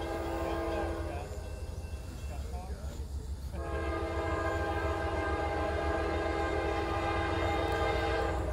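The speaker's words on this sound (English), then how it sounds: "Nice horn, by the way." A CSX Q143 intermodal freight train sounds a loud, sustained horn close by, broken by a short gap in the middle, over the steady rumble of the passing train.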